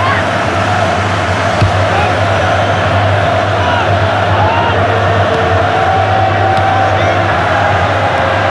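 Stadium crowd noise from the FIFA 15 football video game on PC, a steady roar of spectators that stays loud and unbroken the whole time, with faint whoops rising out of it.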